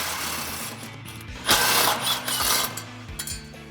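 A ratchet fitted with a 16mm socket loosening bolts in the wheel well of a Jeep Wrangler JL, heard as a steady mechanical whirring clatter with a sharper burst partway through, close and fairly loud.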